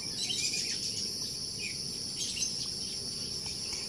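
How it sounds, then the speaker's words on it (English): A grasshopper on a farm chirps in a continuous high, buzzing trill that runs steadily throughout, close and fairly loud, with no voices. "This is kind of grasshopper."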